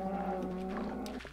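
A cow in a video game lets out a single drawn-out, tonal moo, close and clear, with no talking.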